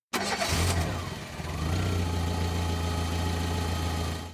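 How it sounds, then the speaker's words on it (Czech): A car engine cranks and starts, revving briefly before settling into a steady, close low idle that rumbles evenly to the end. "rázně nastartoval motor"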